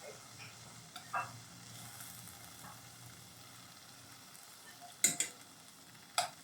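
Homemade pork tocino slices fry in a pan, giving off a faint, steady sizzle. A few sharp clicks and taps break through near the end, with no one talking.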